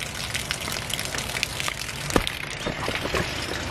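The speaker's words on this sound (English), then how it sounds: "It's raining" Rain falls steadily during fishing tournament practice on South Holston, a dense, even patter of drops with an occasional louder splash and no talking.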